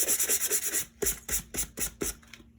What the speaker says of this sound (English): I don't want to sand too much because I don't want to sand away my art.